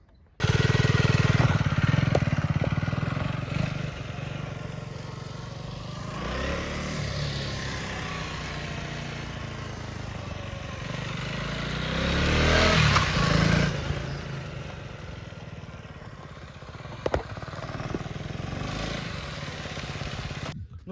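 A KTM Duke 250 Gen3 motorcycle engine drones loudly and steadily while being ridden, rising in a strong rev surge about two-thirds of the way through before settling back to a constant hum.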